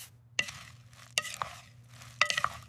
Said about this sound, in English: I use the spoons. I must toss the salad.